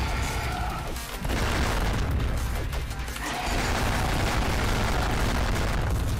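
A heavy bomb blast in the video game Madness Accelerant, a dense roaring rumble that drops briefly and then swells back into a sustained loud boom.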